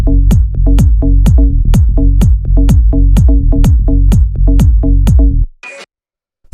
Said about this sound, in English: this first one up here is just a simple FM donk with operator